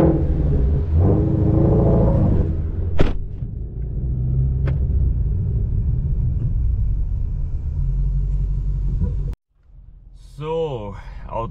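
A 2017 Ford Shelby GT350 driving slowly, heard from inside the car as a low, steady engine rumble and road noise throughout, briefly cut off before someone speaks at the end.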